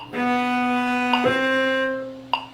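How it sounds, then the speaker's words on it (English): A plucked bass-like string note rings out, then slides quickly to a new pitch with a light tap, followed by another soft percussive tap. "Here's how the hammer shift sounds."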